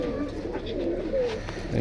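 Soft, low pigeon coos murmur steadily through the clip, close by, with a faint rustle of movement in the background.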